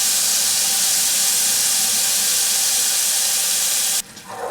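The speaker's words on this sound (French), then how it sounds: "Pensez de temps en temps à remuer les lardons pour qu'ils n'adhèrent pas au fond de la poêle" Bacon lardons frying in a pan make a loud, steady broadband hiss and sizzle that runs unbroken, then drops off abruptly near the end to a quieter, softer crackle.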